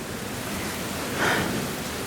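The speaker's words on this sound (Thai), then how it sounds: "ไหนนายบอกว่าฝนตกแป๊บเดียวไง นี่นั่งรอมาตั้งนานแล้วเนี่ย ยังไม่เห็นมีวี่แววจะหยุดเลย" Steady rain hisses evenly as a constant wash of noise, with a brief swell near the middle. No voices are heard.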